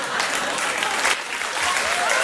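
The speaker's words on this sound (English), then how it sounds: "get a round of applause" A late-night television studio audience bursts into loud, dense, steady applause that fills the whole short stretch without letup.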